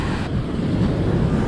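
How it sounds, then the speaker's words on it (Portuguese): Strong beach wind rumbling and buffeting the microphone in a steady, loud low roar, in Paraty, Brazil. "Nossa, tá uma ventania"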